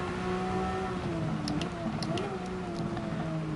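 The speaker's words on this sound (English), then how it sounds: "Engine sounds good on this car." A race car engine in the video game Gran Turismo 7 drones steadily at high revs during a rain-affected race, its pitch sliding up and down as it shifts, with a few faint clicks on top.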